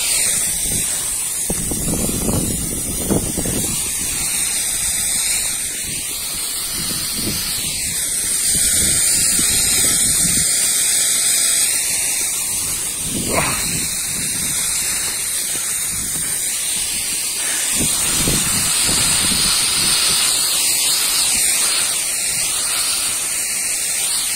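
Bordeaux mixture being sprayed onto walnut trees as winter care in a light wind, a steady loud hiss of pressurized spray running the whole time with slight swells and no speech.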